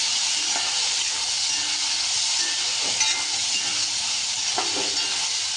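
Okra sautéing in oil with tomato, onion and garlic for a tamarind curry, a constant close frying sizzle with occasional light stirring scrapes and taps, no voices.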